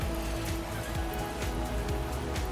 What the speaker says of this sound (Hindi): आहा, ये क्या मुसीबत है, अब बारिश भी।